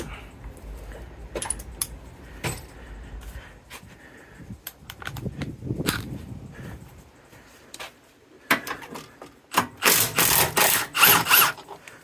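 A 14 mm socket wrench with an extension clicks and ratchets against old, long-untouched engine bolts on a 1999 Honda Civic Si during engine removal, with scattered sharp metallic clicks and a denser burst of ratcheting near the end.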